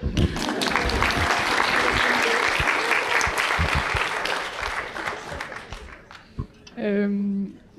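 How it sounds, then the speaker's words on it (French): An audience at a conference on self-determination in adapted physical activity breaks into sustained applause for several seconds, dense clapping that tapers off, followed by a voice speaking near the end. "On peut l'applaudir."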